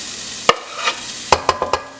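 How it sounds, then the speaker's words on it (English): Shallots and garlic saute in olive oil with a soft background sizzle punctuated by several sharp utensil taps and stirring clicks, close and fairly loud, without voices. "Drizzled in a little bit of olive oil and we are going to saute our shallots and garlic"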